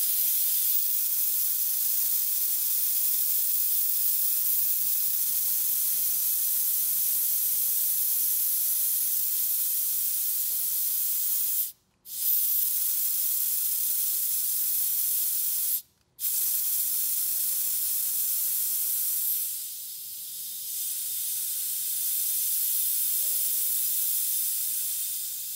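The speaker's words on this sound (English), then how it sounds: "I'm gonna crack the bleed off valve open. Drain this gas down." Nitrogen gas rushing out of the open bleed-off valve on a hydraulic hammer, a loud continuous hiss close by that is cut off twice for a moment and then drops slightly in level near the end.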